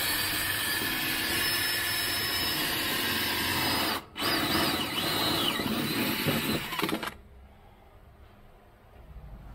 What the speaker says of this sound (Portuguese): agora a gente volta a furar aqui